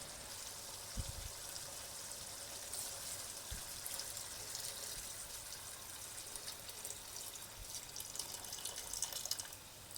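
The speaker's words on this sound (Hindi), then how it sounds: "अब हम इसमें बचा हुआ जो इसका पानी था जिसमें हमने चने बॉईल किए थे वो हम इसमें" Leftover water from boiling chickpeas poured into a pot for pulao, a soft continuous trickle with a few light drips and clunks, faint and steady with no voices.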